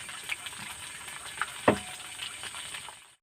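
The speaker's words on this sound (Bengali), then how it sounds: "আর আমি এইখানে আস্তে আস্তে তেলে ছেড়ে দেবো এইভাবে।" Pieces of leftover rice fry in hot oil with a soft continuous sizzle, a few small pops and a single clink of a utensil near the middle, close and fairly quiet.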